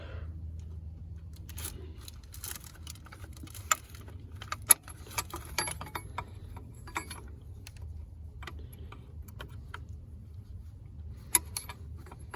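A hose fitting wrench works on a fuel return line of a 7.3 engine, making faint, scattered metallic clinks and taps against a quiet background.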